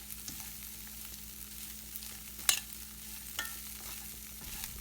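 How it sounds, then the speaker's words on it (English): Poha upma being stirred in a pan with salt, a soft steady sizzle under scattered scraping clicks of a spoon against the metal, close and fairly quiet with no talking. "Mix everything very well together."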